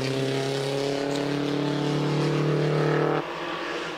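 An MG Riley vintage sports car runs loud and close at the Prescott hill climb, its engine holding a strong, steady harmonic drone. The pitch drops abruptly near the end as it goes past.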